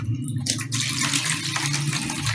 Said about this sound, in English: Then you have to pour it out in an aluminum container.